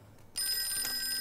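Telephone ringing, a bright electronic bell tone that starts suddenly after a quiet moment and holds steadily, faint and somewhat distant, with no talking.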